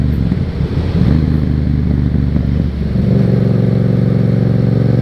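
A Yamaha FZ07 motorcycle ridden along a country road: a steady, close engine drone with wind rush that eases off and settles into a lower, smoother hum as the bike slows.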